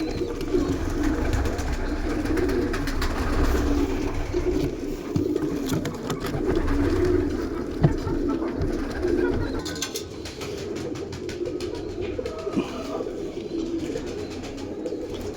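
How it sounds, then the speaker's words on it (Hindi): A breeder pair of Ferozpuri green-necked pigeons coos in low, repeated throaty rolls, close and steady, over a soft background hum with occasional small knocks. "फिरोजपुरी सब्ज गले वाला, ये ब्रीडर जोड़ा।"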